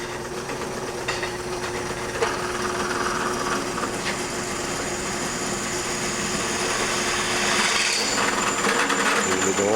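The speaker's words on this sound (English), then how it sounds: "we just drill the hole" A power drill bores a 3/8 inch hole all the way through a hoop insert, giving a steady high-pitched motor whine with grinding texture that runs continuously and a little louder toward the end.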